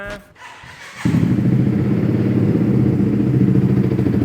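A 2018 BMW C400X scooter engine starts up and settles into a steady, rumbling idle, close and fairly loud, with no talking over it.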